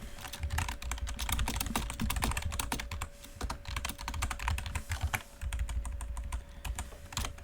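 Steady, fast typing on a computer keyboard while writing Python code, a dense close-up clatter of keystrokes running without pause over a low background hum.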